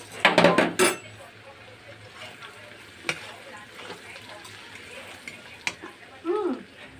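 Spices and chopped tomato stirred in a cooking pan for a fish-head chorchori with aubergine and potato, opening with a loud burst of metallic scraping and clatter, then a low sizzle with occasional utensil knocks and a brief voice near the end.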